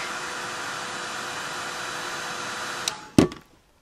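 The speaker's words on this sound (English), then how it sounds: "just take your heat tool and kind of heat it up from the back" A heat tool blows a steady, loud, close hiss of hot air onto the back layer of a craft flower, then shuts off with a click and quickly winds down to silence.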